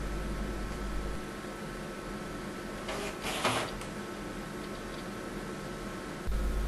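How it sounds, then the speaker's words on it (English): Label printer on an automatic positioning miter saw measuring stop runs with a steady whir and faint ticking, swelling into a brief louder burst partway through as a label feeds out, with no talking. "there is also a printer for labelling your profiles"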